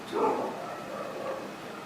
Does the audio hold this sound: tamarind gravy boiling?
no